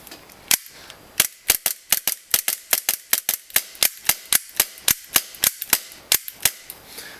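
A customized Tokyo Marui G17/G18C gas blowback airsoft pistol with a tight-sealing nozzle fires a long string of sharp, snappy shots, about twenty in quick succession with an uneven rhythm, loud and close, with no talking.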